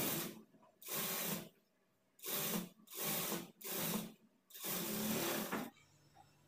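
Sewing machine stitching a quarter-inch seam on a princess-cut blouse, coming in six short bursts of whirring stitching separated by brief pauses, close and fairly loud.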